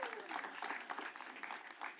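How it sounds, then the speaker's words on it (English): An audience applauds at a mayoral announcement speech. Dense, steady clapping rolls through the hall at a moderate distance, with a voice audible underneath. "I knew that would get an applause."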